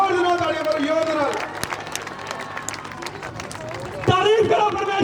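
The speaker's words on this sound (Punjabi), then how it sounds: "ਜ਼ੋਰ ਦੇ ਨਾਲ ਤਾੜੀਆਂ ਮਾਰੋ" A crowd at an outdoor Christmas rally claps loudly and unevenly in bursts, while an amplified voice carries over the clapping.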